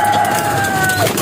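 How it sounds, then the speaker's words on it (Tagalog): Pigeons in a loft give soft chirping calls over a steady noisy background, continuous and moderately close. "Eto, mga kalapatid, sumisiyap-siyap pa."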